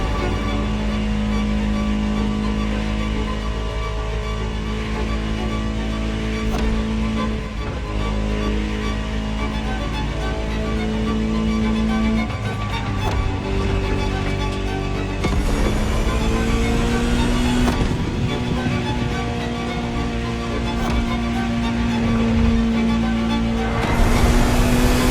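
A Ferrari engine in The Crew Motorfest racing game sings continuously, its pitch climbing and stepping through gear shifts over a sustained roar with no talking.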